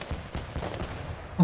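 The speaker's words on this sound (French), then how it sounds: "Ah, c'est un petit canon 37, ok." A small 37mm cannon fires in the WWII game Gates of Hell: Ostfront, a few dull, fairly close booms spaced through a busy battle soundscape, with no talk over it.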